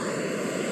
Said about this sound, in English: Turn on the jet boil.